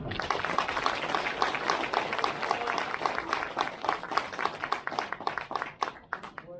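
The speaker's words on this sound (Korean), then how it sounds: "이번 축하의 박수 부탁드립니다" A crowd claps in congratulation at a Rotary club president inauguration ceremony, many distinct hand claps forming a moderate round of applause that thins out and grows sparser toward the end.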